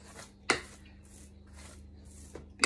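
The back of a spoon scrapes and presses a banana and oat mixture flat in a Thermomix recipe. Soft, quiet rubbing strokes are broken by two sharp taps, one near the start and one at the end, over a low steady hum.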